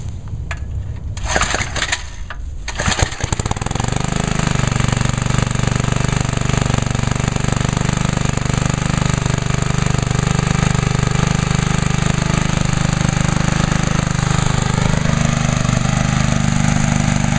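A 1996 DR trimmer mower with a Briggs & Stratton engine is cold started: a few rough pull-start noises, then the engine catches and runs with a loud, steady, close buzzing drone that holds to the end.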